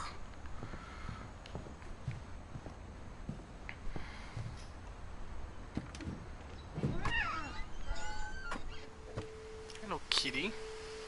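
A cat meows a few times in the game What Remains of Edith Finch, soft and fairly close over a quiet background of faint footsteps and small ticks, with short chirping calls near the end.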